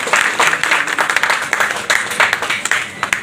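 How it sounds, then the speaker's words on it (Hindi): Loud applause from a gathering of village council members and local representatives welcoming a state minister at a public ceremony in Rewari, dense overlapping claps in uneven bursts that swell and ease. "एक बार जोरदार तालियां माननीय मंत्री जी के लिए"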